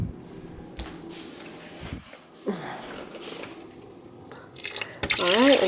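Tap water runs into a pot, starting with scattered drips and clatter, then rising to a loud rushing pour at the end, with speech mixed in.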